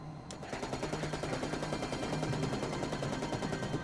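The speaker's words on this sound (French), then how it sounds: "J'ai tiré une rafale de 64 munitions de calibre 30 mm." A 30 mm cannon fires a single sustained burst as a sound effect, a rapid and evenly spaced string of heavy shots that starts abruptly and continues loudly and close throughout.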